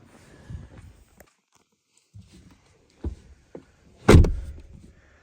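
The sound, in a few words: car doors being opened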